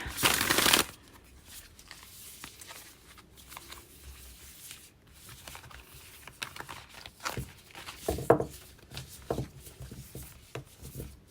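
Tarot cards being shuffled and handled up close, a burst of riffling at the start followed by soft, irregular flicks and taps of cards.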